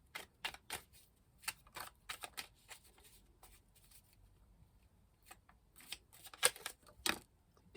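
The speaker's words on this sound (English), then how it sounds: "I'll cut the deck." A Rider-Waite tarot deck being cut and handled, with quiet, irregular crisp card flicks and riffling taps scattered in short clusters, close and soft against a near-silent background.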